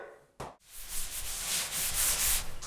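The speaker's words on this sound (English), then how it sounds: "I'm going to wash down the surface with some Comet kitchen pad." A Comet kitchen pad scrubs a fiberglass tub surround in a steady, loud abrasive rub after a brief initial swipe, continuing without pause.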